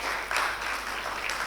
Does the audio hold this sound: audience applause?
yes